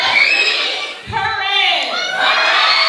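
A crowd of children at a school prevention and safety event shouts a name loudly in unison, a sustained burst of voices with a brief dip partway through.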